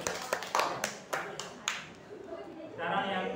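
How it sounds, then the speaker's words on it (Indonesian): A classroom of students claps together: a short run of scattered, quick hand claps, close and fairly loud, with voices talking underneath. "Tepuk tangan untuk semuanya."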